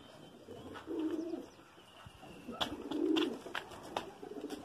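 Domestic pigeons coo from a home pigeon cage, two low throaty rolling coos rising moderately loud over a murmur of outdoor background with a few faint chirps.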